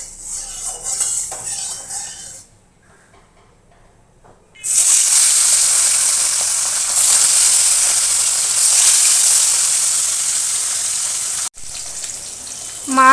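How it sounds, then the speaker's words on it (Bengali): Fish sizzle loudly in a wok of hot mustard oil, a bright steady hiss that erupts after some quiet clatter of the pan and continues strongly, briefly cut off near the end. "তেল গরম হয়ে গেছে, মাছ দিয়ে দেব।"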